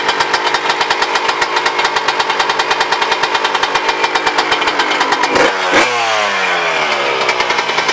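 A Nissan S13 engine fires for the first time after a turbo conversion, with loud, rapid, even pulses that run steadily, then a sharp clatter near the end and a falling whine as it winds down.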